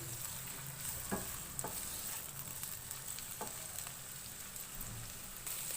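Chopped onions fry over a medium flame for chicken karahi, giving a steady, close sizzle with occasional clicks and scrapes of stirring throughout, no voices.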